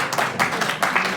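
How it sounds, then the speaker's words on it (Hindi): An audience at a Hindi poetry recital applauds a poet: a short burst of hand clapping in uneven pulses, fairly close and moderately loud. "इसलिए एक बार इनकी ताली बजाएं।"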